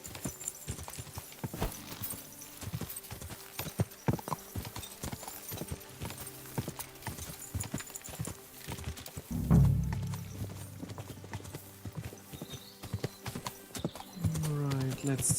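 A horse, a mare, walks along a forest path in Bohemia, its hooves clip-clopping in an even near rhythm while people talk over the steps, with a heavier thump near the middle.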